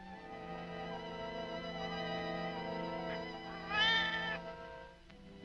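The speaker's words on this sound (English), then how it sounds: "There's a cat in that cage." A cat meows from inside a cage in a 1953 film scene, a drawn-out cry rising partway through over a steady, tonal background hum.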